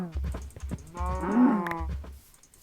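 Video game cows moo several times in a row, loud and near, with soft thumping steps underneath.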